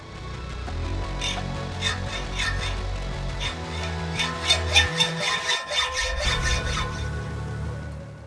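A 10mm thick steel plate is cut by hand in a workshop, with rhythmic rasping metal strokes that speed into quick scrapes near the end, close and loud.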